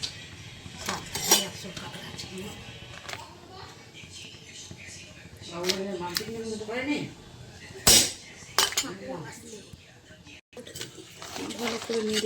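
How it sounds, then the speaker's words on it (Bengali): Crabs stirred in a cooking pot give clattering metal scrapes and knocks of a spoon against the pan, in uneven bursts with sharp clinks, while a voice talks intermittently over the kitchen sounds. "ভালো করে নেড়ে নিই"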